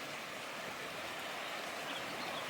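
A mountain creek in a Montana meadow runs in a soft, steady rush of water, faint and continuous, with no voices.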